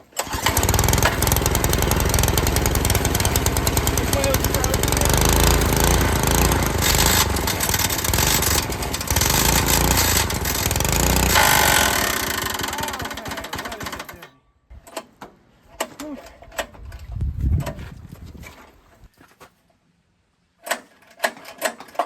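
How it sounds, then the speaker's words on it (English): Freshly rebuilt Predator 212 small engine cranking and running loud with a rough, clattering rattle before it abruptly dies, leaving scattered clunks and handling noises afterward. "it's locked up solid, so it clattered and I guess blew itself up"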